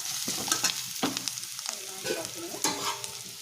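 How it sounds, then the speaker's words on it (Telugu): Peas curry with coriander powder, garam masala and salt is stirred in a hot pan, loud close sizzling with repeated scraping strokes of a spoon in an uneven rhythm, no voices. "ధనియా పౌడర్ గరం మసాలా కర్రీకి తగినంత సాల్ట్ వేసుకొని మిక్స్ చేసుకోవాలి"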